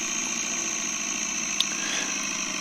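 A gyroplane engine is held at steady high RPM during rotor pre-rotation on the ground, giving a loud, continuous droning hum with a high whine layered on top and a brief click partway through, with no talking.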